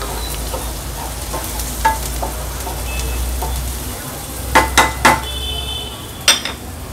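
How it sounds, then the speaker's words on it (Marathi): Chopped onion sautéing with turmeric in a pan gives a steady close sizzle, with a few sharp clinks and scrapes of a spoon stirring against the metal. "हळद ॲड केली का थोडंसं परतून घ्यायचं आहे आपल्याला कांदा।"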